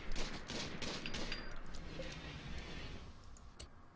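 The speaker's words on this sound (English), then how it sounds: "at least he's getting his shooting skill up by hunting like that." Rapid bursts of in-game gunfire as a colonist hunts in RimWorld, a quick volley of shots at the start that fades into a steady, muffled background wash.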